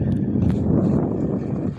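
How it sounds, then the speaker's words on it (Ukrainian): Wind gusts buffet a microphone outdoors in Chile, a dense low rumbling roar that fills the whole moment at steady, fairly loud level. "Це ж треба вітер подув якраз не вовремя."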